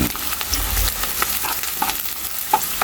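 Lechon paksiw with garlic is stirred in a sizzling pan, a steady hiss of frying with intermittent scrapes and light clinks of a spoon against metal, close up and without speech.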